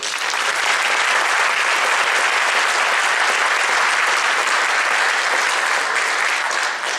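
Steady, dense audience applause fills the hall after a band concert at an honor band event, sustained and even for the whole stretch with no voices over it.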